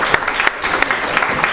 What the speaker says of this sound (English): Can we have a nice applause?